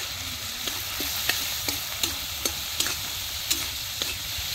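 Spices for a thin puti fish curry with potato and pointed gourd fry in a pan while a spoon stirs them, sharp regular scrapes and taps landing roughly every half second over a constant low sizzle, close and without voices.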